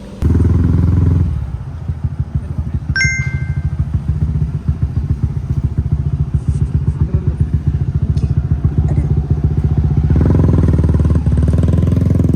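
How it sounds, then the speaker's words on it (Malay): A motorcycle engine putters with a rapid, steady throb at close range, rising in revs near the start and end, with a brief high chirp early on. "Tengah naik motor ni senang cilok-cilok sikit kan."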